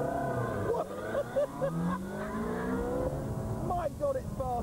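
A Ferrari 360 Modena with a 400 brake horsepower engine and F1 paddle-shift gearbox pulls hard from a standstill, its engine note rising in climbing sweeps broken by quick gear changes, heard from inside the cabin with voices over it.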